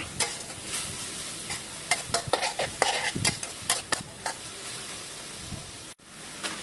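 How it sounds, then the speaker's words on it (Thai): A Thai squid stir-fry cooks fast over high heat: a constant sizzle with quick, rhythmic clacks and scrapes of the spatula against the pan, ending abruptly. "ตรงนี้จะต้องผัดเร็วๆนะ ตัวระดับไฟที่ใช้ก็ใช้เป็นไฟแรงเลยค่ะ"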